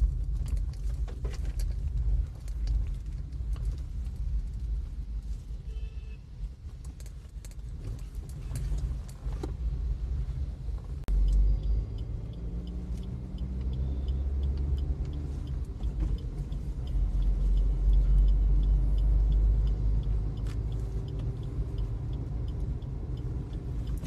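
A Maruti Suzuki Baleno with a newly replaced steering system drives along, heard from inside as a steady low cabin rumble and road drone with small rattles and clicks.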